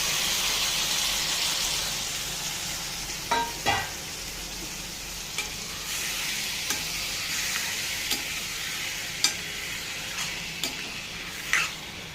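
Cucumber curry with salt and chili powder stir-frying in a pan, a steady hiss of sizzling oil throughout with occasional sharp scrapes and clinks of a spoon against the pan, close and fairly loud.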